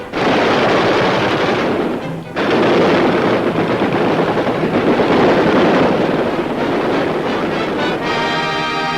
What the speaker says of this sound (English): Machine guns spatter real bullets just above their heads.